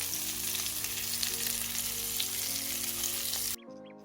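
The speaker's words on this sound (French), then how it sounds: "5 minutes après avoir rajouté le beurre, il faut retourner les côtelettes pour permettre à l'autre partie de cuire." Lamb chops fry in butter in a pan, a steady close sizzle and crackle running unbroken for about three and a half seconds before cutting off abruptly.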